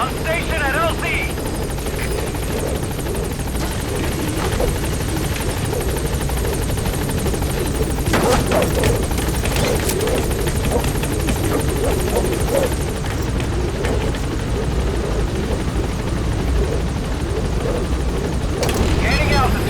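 The Pequod helicopter from Metal Gear Solid V: The Phantom Pain hovers at a landing zone with a loud, steady rotor roar and engine wash that fills the whole stretch, with scattered game effects on top.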